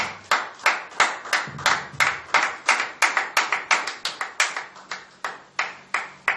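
A church congregation claps in acclamation, producing sharp, close hand claps in an uneven but steady rhythm, each one ringing out distinctly with short decays and no talking.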